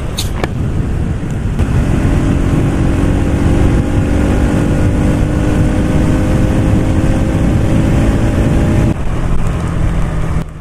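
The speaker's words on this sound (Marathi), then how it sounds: "इथे आता गाडीचा आवाज बघा किती मस्त येतो." Motorcycle engine droning steadily while riding on a road trip from Mumbai toward Rajapur in Konkan, loud and close with a constant tone and wind rush, easing off slightly near the end.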